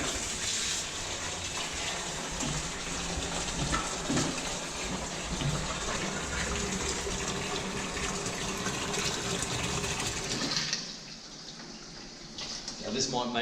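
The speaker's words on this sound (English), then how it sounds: "So now we can start taking water out." Water rushes steadily out of a Red Sea Reefer aquarium being emptied for relocation, a continuous loud gushing flow that runs for about ten seconds before dropping off, with a brief trickle near the end.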